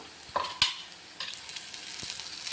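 Okra pieces fry in an iron kadai, a soft steady sizzle broken by a few sharp scraping clinks of a spoon stirring against the metal.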